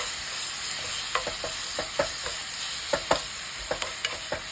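Tomato being stirred in a pan while cooking, as part of a homemade pizza sauce, gives a steady sizzle with scattered clicks and scrapes of the utensil against the pan, close and fairly loud with no talking.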